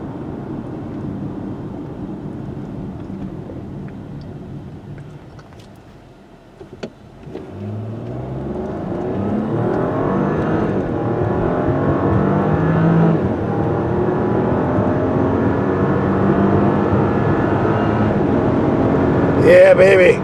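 A 2025 Audi Q7 on a road test, heard from the cabin as it speeds up. The engine drone dips, then builds into a louder, steady rising roar with tire and wind noise, and a voice talks over it.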